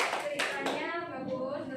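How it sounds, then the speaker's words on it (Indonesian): Brief clapping for a student in a seventh-grade Indonesian language microteaching classroom, a few hands patting close by at a steady level for under two seconds, with a voice faintly mixed in. "tepuk tangan untuk Indri"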